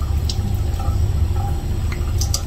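Fresh water splashes and drips as it is used to wet a face, a steady close wash of running water with small drips, heard alone without speech.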